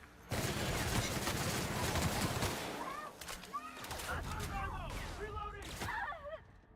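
Rapid, crackling gunfire from The Outer Worlds video game rattles in dense bursts for several seconds, then thins out while a player talks and other game sounds chirp.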